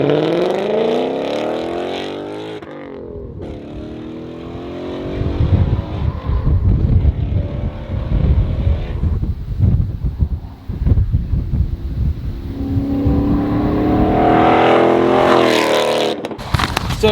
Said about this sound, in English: It's pretty windy out